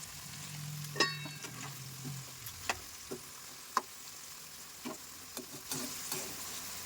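Chopped broad bean pieces frying in a pan for pickle, a soft continuous sizzle with occasional light ticks and scrapes of stirring, close but quiet, no voices.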